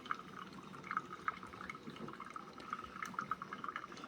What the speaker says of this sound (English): you can hear it shooting the water up in here